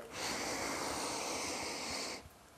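A deep, steady inhale during a yoga shoulder and chest opening exercise, a close airy breath lasting about two seconds before it stops abruptly.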